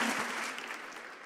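Applause from a church congregation carries on at a moderate level and gradually tapers off over a short stretch, with no voices over it.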